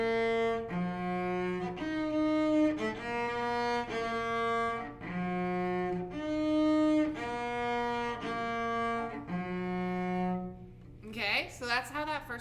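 Cello plays the opening notes of the Tour Themes piece as a slow, steady series of sustained bowed tones rising and falling in a repeating pattern, clear and close, with a voice briefly starting to talk at the end.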